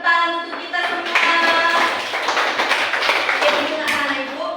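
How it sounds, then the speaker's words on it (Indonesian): A classroom of children clapping together in a burst of overlapping applause, mixed with voices calling out and talking. "tepuk tangan untuk kita semua"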